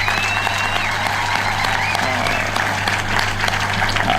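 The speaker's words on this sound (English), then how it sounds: "Can we clap for those girls?" A crowd applauds steadily throughout, a dense wash of clapping with some cheering mixed in, at the Kenya National Drama Festival State Concert.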